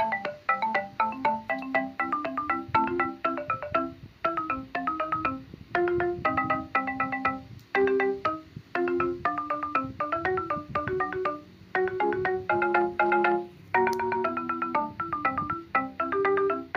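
A melody built in Chrome Music Lab plays alone, its lower notes reworked, with bright electronic tones moving in short rhythmic phrases over a steady low bass line and brief gaps between runs.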